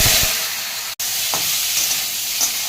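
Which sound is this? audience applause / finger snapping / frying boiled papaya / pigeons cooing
frying boiled papaya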